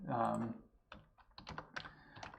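Clicks of a computer keyboard being typed on in short irregular bursts, following a brief stretch of speech at the start.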